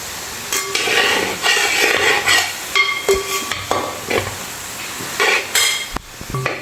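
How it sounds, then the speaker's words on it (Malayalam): Soybeans shallow-fry in a pan for pickle, with sizzling oil and repeated spoon stirring and scraping against the pan in irregular bursts, close and fairly loud. "അപ്പോൾ എന്തായാലും ഇതൊന്ന് ഫ്രൈ ആയി വരട്ടെ."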